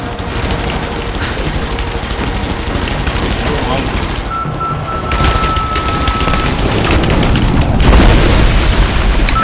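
Heavy gunfire and booming explosions in a Rise of the Tomb Raider battle, loud and continuous bursts with shouted voices mixed in over the din.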